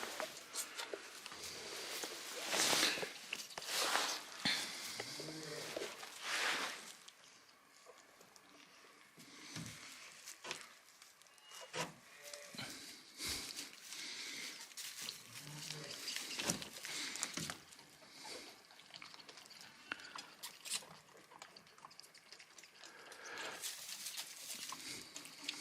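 Spare cade lambs feeding from a milking machine, with busy irregular sucking, snuffling and clattering noises, occasional bleats and soft thumps, fairly close and continuous throughout.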